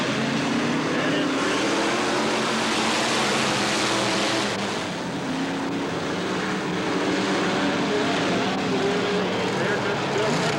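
Stock race cars at Bureau County Speedway accelerate out of turn 4 in 1989, a dense, continuous engine roar filling the whole stretch under a crowd wash, with a commentator talking over it.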